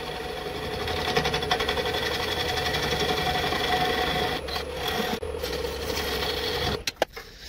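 Timber being turned off a bowl on a wood lathe with the tailstock brought up, a steady close scraping, rasping cut that runs continuously and then breaks into a few short bumps near the end.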